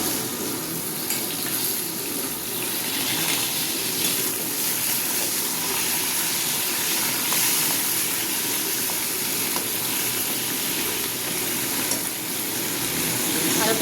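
Potatoes frying in a pan at a dining-room cooking setup, a continuous broad sizzling hiss holding steady and fairly close throughout, without speech.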